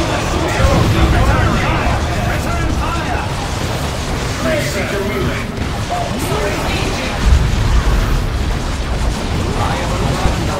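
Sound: gunfire and explosions in battle, from video game Dawn of War 2

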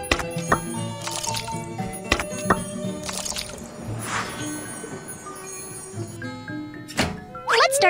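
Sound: cake batter poured into a mold in a video game

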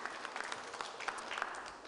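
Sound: audience applause

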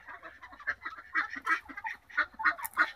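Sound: ducks calling

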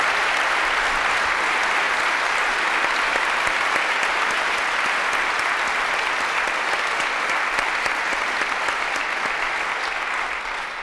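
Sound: applause

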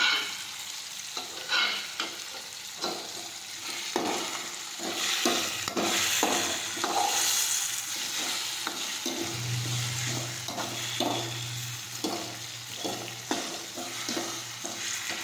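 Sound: sautéing morai (barnyard millet) khichdi ingredients in a pan

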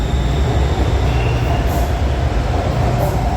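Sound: electric train passing

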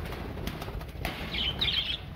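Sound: bird flying, wings flapping

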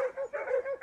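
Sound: dogs barking

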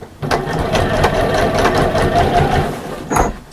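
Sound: sewing machine sewing bag bottom seam

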